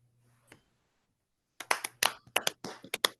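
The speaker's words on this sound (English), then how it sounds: "Everybody, warm round of applause." Scattered claps from a few people at an online open mic, irregular close hand claps starting after a near-silent gap and continuing unevenly to the end.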